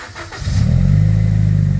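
A BMW 1 Series fitted with a Toyota Supra exhaust box starts up. A brief cranking leads into a loud, close, steady idle rumble that continues to the end.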